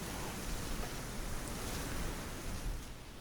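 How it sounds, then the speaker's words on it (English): Steady broadband wind rushes over a medieval village under construction in the game Manor Lords, a continuous gusty roar with gentle swells and no voices. "It's very windy though, which is something of concern."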